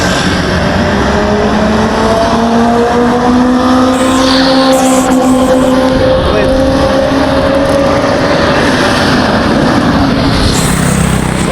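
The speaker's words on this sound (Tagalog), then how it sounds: "Grabe ang mga sasakyan dito. Ang bibilis." Fast cars rush past on a busy road, loud and near, with engine whine rising and falling as vehicles pass one after another over constant traffic roar.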